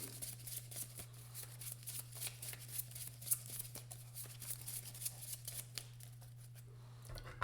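Cards for the Legendary deckbuilder game being shuffled, a soft papery riffle of quick flutters and light snaps running steadily for several seconds, close and fairly quiet, with no talking.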